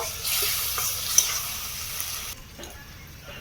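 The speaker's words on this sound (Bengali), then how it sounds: "একটু বাটি ধুয়ে মশলা ধোয়া জল দিয়ে খুব ভালো করে মিশিয়ে নেব" Masala being stirred with a splash of spice-rinse water in a pan, yogurt included, giving a steady wet sizzle and scraping that drops off partway and continues more softly, with no talk.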